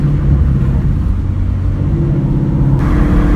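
Ford Mustang 5.0 V8 heard from inside the car during a hard first gear pull, a loud continuous throaty rumble and roar with a steady engine drone filling the cabin.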